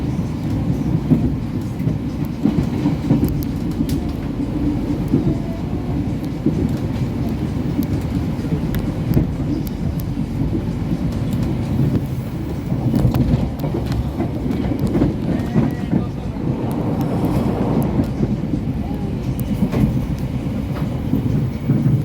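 The Taksaka passenger train rumbles steadily along the rails through Cikarang station without stopping, with low heavy rolling noise and faint rhythmic clatter, sustained throughout at moderate distance.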